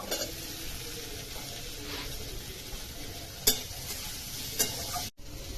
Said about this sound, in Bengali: কিশমিশ কুচনোটাও দিয়ে দেব, তারপরে কাজু বাদাম কুচনো দিয়ে দেব, দিয়ে একটু নাড়বো